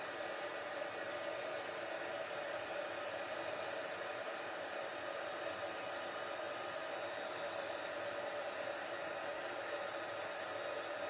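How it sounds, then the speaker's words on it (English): A heat gun blows steadily while embossing a Christmas stocking, a constant airy whir that holds at even loudness throughout with no speech. "I'm going to get the heat gun now, and I'm just going to emboss this beautiful stocking"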